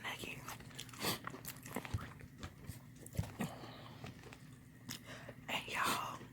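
Someone eating the last Chick-fil-A chicken nugget, with soft bites and chewing close to the microphone while a person talks quietly in between.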